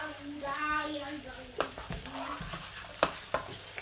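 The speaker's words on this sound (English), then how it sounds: "giving that a nice mix, and then you taste to adjust." Olive and mint chicken with fresh coriander stirred in a pan, a soft sizzle under scraping spoon strokes and several sharp knocks against the pan, with brief talk early on.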